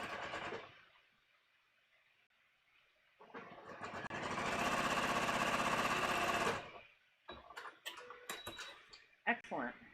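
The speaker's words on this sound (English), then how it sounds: "let's get this last side seam sewn" A sewing machine runs steadily for about three seconds, stitching the last side seam of a bodice sloper, with talk and handling noises before and after the burst.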